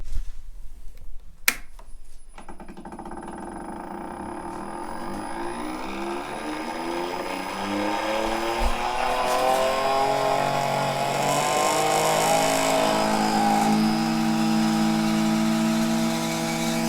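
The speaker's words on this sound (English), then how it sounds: "So we'll flip the switch on this new pump." A new vacuum pump for maple sap collection switches on with a click and spins up, its motor hum rising and settling into a loud, steady drone with a whining tone that carries on without a break.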